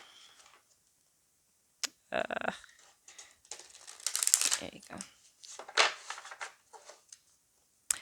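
A tarot deck being given a horizontal shuffle, heard as short, bursty riffles and card rustles in close, uneven spurts, with a person speaking briefly between them.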